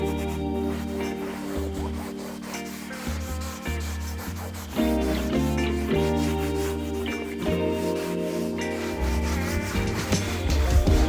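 Hard interior surfaces and leather in a car are wiped and rubbed clean by hand, a steady close run of scrubbing and rubbing strokes with small knocks and squeaks.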